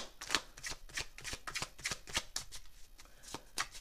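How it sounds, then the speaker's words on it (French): Oracle cards are shuffled by hand for a reading, a quick run of soft riffling and slapping bursts repeating in an uneven rhythm, close and fairly quiet, with no speech. "On va continuer avec un tirage de cartes, vous allez voir."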